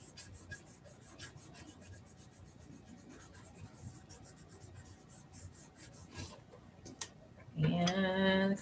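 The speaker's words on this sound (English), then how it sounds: "I'm going to color that shoe black as well." Marker or crayon scrubs on paper while a drawing of a running character's shoe is colored in black, soft repeated rubbing strokes, quiet and close, ending with a louder unrelated noise.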